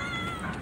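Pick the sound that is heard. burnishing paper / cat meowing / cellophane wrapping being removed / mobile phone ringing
cat meowing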